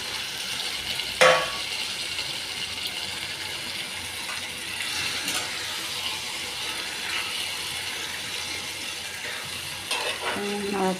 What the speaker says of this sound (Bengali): এবার আমি এই মাংসটাকে সব উপকরণ দিয়ে ম্যারিনেট করা আছে, এবার কড়াইয়ের মধ্যে ঢেলে দেবো।